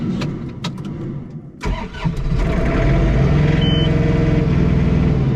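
A John Deere 3 Series compact tractor engine starts and settles into a steady, close, loud mid-pitched idle, with a few sharp clunks before it catches, in a snowy setting.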